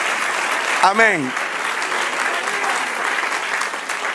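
Sustained applause fills a church congregation as worshippers clap for the Lord, steady and broad throughout, while a voice briefly speaks over it near the start.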